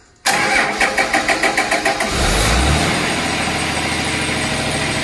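A Cummins 6.7 turbo diesel engine running on HythanolPLUS fuel cranks briefly with rapid pulsing, catches abruptly and settles into a loud, steady, close idle with no talk.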